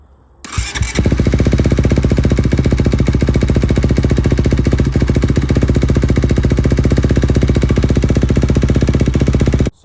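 A motorcycle engine with a newly installed Hinson clutch fires up after a brief crank and settles into a loud, steady, rapid idle thump close by, running uninterrupted until it cuts off.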